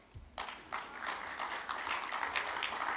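An audience claps at a university AI boot camp commissioning event, a broad wash of hands building from scattered claps into sustained applause with a few stronger bursts, moderately loud in a large room.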